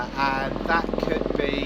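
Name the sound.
helicopter flying overhead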